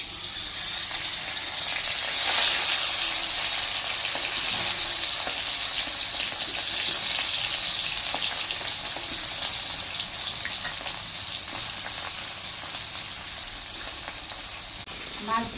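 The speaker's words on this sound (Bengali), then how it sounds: "মাছটা মাখা হয়ে গেছে, তেলও গরম হয়ে গেছে। আমি আস্তে আস্তে মাছগুলি দিয়ে দেব।" Marinated chapila river fish sizzle as they go into hot oil in a home kitchen, a steady bright hiss of frying that runs continuously with small crackling bursts, close and fairly loud throughout.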